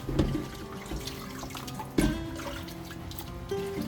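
Salted water drains off washed galunggong fish, a close, splashing trickle and pour with a few sharper splashes, liquid running unevenly for a few seconds.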